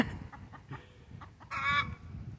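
A hen at a roadside gives a series of short, soft clucks, then a louder drawn-out squawking call near the end. The sounds are close and stand alone over a low background rumble.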